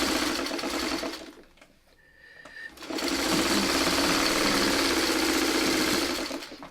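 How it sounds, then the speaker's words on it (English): A sewing machine stitches quilt sashing in steady, loud, fast runs, stopping briefly for about a second before starting up again and running continuously. "I'm just going to sew this in place"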